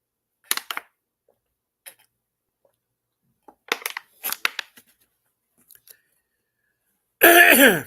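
Close, quiet gulping and swallowing sounds in a few short bursts, with pauses between, ending in a loud exhaled gasp or voice.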